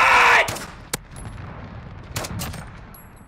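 Gunfire in the video game Modern Warfare: a loud burst opens, then a few sharp isolated shots crack out at irregular intervals over a quieter background.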